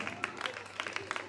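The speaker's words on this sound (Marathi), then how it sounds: "स्नेहा मानेसाठी जोरदार टाळ्या वाजवा" Applause breaks out for a contestant at a primary school event, scattered hand claps from a small crowd, moderately loud and uneven, with a voice faintly heard beneath.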